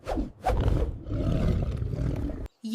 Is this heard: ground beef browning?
no